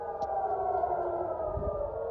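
Wartime air-raid sirens in Iran wail in a steady sustained drone, moderately loud and continuous with a faint low rumble beneath.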